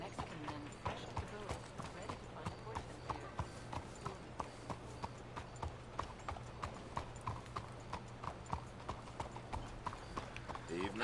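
Horse hooves clip-clopping at a steady trot in the video game Red Dead Redemption II, a regular rhythmic beat running throughout under people talking.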